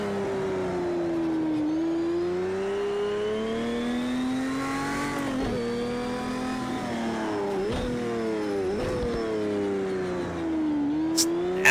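A Porsche 917 LH engine in Project Cars 2 at Le Mans, loud and near. Its tone rises and falls through repeated downshifts, with sharp throttle blips between the smoother stretches of revving.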